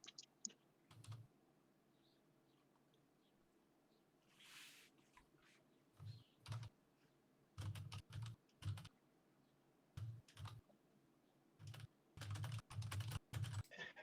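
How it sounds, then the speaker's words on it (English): Bursts of typing on a noisy, clicky computer keyboard, quick clusters of keystrokes separated by pauses, close and fairly loud, with no talking. "Sorry, it's a noisy keyboard."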